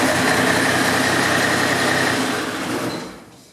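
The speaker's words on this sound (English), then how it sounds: "I'm going to put a good battery in there and show you that the engine does crank fine" A car engine, just fitted with a good battery, runs steadily at a loud, close idle, then eases off and fades toward the end.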